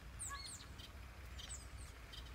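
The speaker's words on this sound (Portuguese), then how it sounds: "Tem uma quantidade de passarinho aqui voando aí." Small wild birds, sparrows among them, chirp in short high tweets outdoors, faint and a little distant over a soft low ambient rumble, with no voices.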